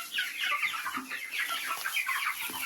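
Young chickens cluck and chirp steadily inside a coop at a country dacha, a dense overlapping chorus of close, moderately loud calls with no talking.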